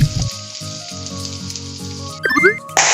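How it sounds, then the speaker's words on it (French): Vegetables and day-old leftover pasta sizzle and fry in a pan, a steady close crackle with brief clatters of stirring toward the end. "je fais tout simplement revenir des légumes avec les pâtes de la veille"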